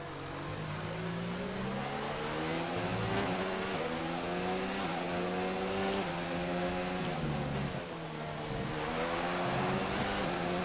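An F1 2019 video game race car engine drones and revs continuously, its pitch rising and falling through gear changes, loud and steady with a slightly synthetic, game-like tone.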